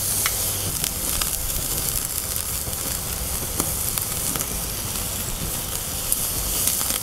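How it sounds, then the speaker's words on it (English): Meat sizzles and spits in a hot frying pan just after being flipped, a steady close hiss with occasional sharp pops throughout, and no voices. "We're gonna go ahead and flip. We're gonna go ahead and let that cook for another minute."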